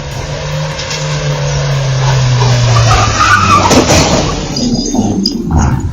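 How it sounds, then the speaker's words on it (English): A pickup truck skids out of control on a calm street, its tires squealing in a loud, sustained screech with engine noise underneath, fading into road rumble toward the end. "A pickup suddenly lost control, creating a tense moment on an otherwise calm street."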